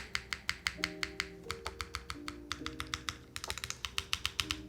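Rapid, steady typing on a mechanical keyboard fitted with QMX stabilizers, each keystroke a sharp close click in a clear rhythm, with a few deeper thocks from the stabilized keys.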